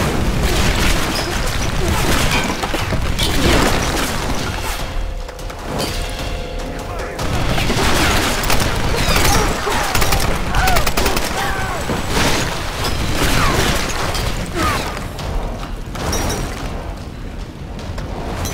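Heavy gunfire rips through a Lara Croft action game in a near-constant barrage of shots and booming blasts, loud and dense with only brief lulls.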